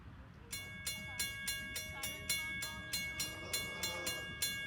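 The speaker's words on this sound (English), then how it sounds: "This is the 5 o'clock train coming in." A Strasburg Railroad train approaches a level crossing while the crossing bell rings in a steady, evenly spaced series of sharp metallic strikes, fairly close, over a low rumbling background.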